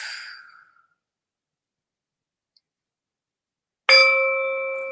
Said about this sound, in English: my singing bowl